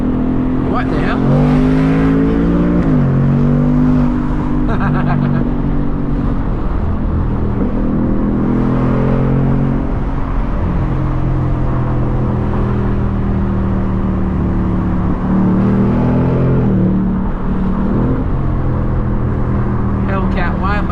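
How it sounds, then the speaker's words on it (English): A 2024 Mustang GT convertible revs hard through gears, with engine pitch climbing and dropping at each upshift and the exhaust loud and close; someone talks over parts of it. "Make you guys hear the upshift pop real quick."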